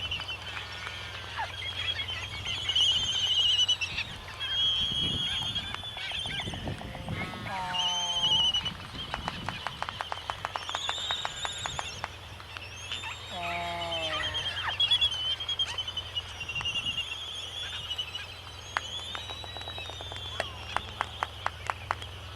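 A dense chorus of seabird calls, squawks and whistling cries on Midway Atoll overlapping continuously, with occasional rapid clacking bursts.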